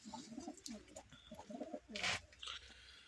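Young month-old pigeons coo in a loft, low murmuring calls repeating close by, with a brief louder flutter or rustle midway and soft chirps around it.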